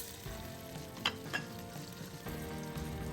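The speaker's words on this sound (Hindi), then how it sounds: "ऑयल के बाद इसमें प्याज डाल के उसको ब्राउन करूँगी।" Chopped onions frying in oil in a pot for a paya stew give a steady, close sizzle, with a couple of brief stirring scrapes partway through.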